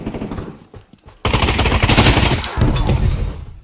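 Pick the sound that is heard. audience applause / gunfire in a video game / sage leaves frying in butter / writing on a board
gunfire in a video game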